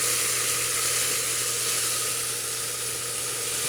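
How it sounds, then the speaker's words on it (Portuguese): Pork ribs sizzle loudly in a hot pan as Worcestershire sauce is added to deglaze, a dense steady hiss that holds throughout. "Quando já começar a dar fundo de panela, a gente vai deglaçar com o molho inglês"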